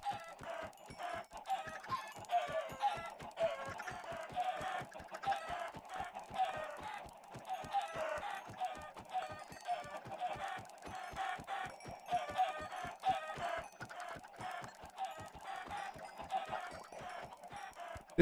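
Minecraft chickens, adults and babies penned together, cluck on and off for the whole stretch, a quick rhythmic stream of short clucks at moderate level with no talking over them.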